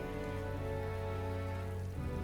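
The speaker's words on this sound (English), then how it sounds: "14 degrees and rainy." Steady rain falls in the Metaphor: ReFantazio video game, a constant even hiss with no talk, though a sustained musical tone runs through it and the sound shifts slightly near the end.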